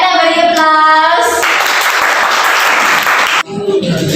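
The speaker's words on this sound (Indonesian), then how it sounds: "Ya, kita beri aplaus." An audience in an Indonesian classroom lesson on AI literacy and ethics breaks into steady, loud applause that follows a brief spoken phrase, with the clapping cutting off abruptly near the end as talk resumes.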